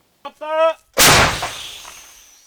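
A shouted command is followed by one booming artillery cannon shot firing a shell, close and loud with a long rumbling decay.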